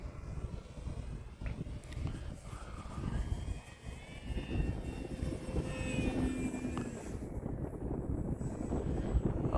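An E-flite Extra 300 3D RC airplane hovers nose-high through a slow Harrier maneuver outdoors, its electric motor and propeller droning steadily at moderate distance beneath constant wind buffeting on the microphone.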